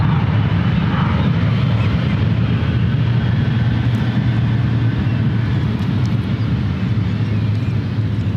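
A 24-year-old Boeing 777-200ER jet taking off at SFO bound for Newark gives a broad, steady engine roar that stays loud and constant throughout, with no talk over it.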